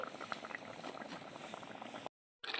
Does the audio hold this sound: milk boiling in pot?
yes